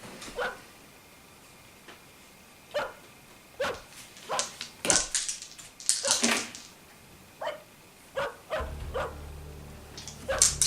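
A person imitates a dog during an improvised tabletop game session, giving a string of short, sharp woofs and yips spaced unevenly, some clustered in quick bursts, fairly close and loud over a quiet room.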